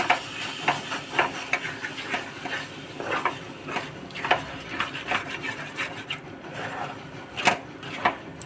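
A sweet mango-purée filling is stirred in a pan with a wooden spoon, giving soft, irregular scraping and rubbing strokes over a low sizzle, close and fairly quiet.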